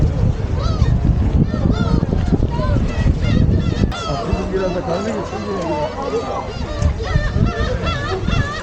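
Seagulls call repeatedly around a tour boat at Dokdo island, overlapping cries over a loud churning engine and wind, with people talking nearby.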